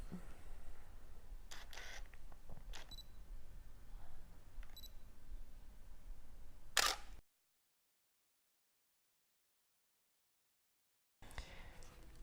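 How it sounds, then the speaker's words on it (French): A camera shutter fires once in spot metering mode, a sharp, close click against quiet background hiss, followed by silence. "je vais prendre une autre photo de l'appareil en décalant ce dernier sur un des deux côtés"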